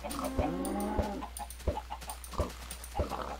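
Chickens in Minecraft cluck in short, separate bursts spaced about half a second apart, close and clear against a faint steady hum, with no talking.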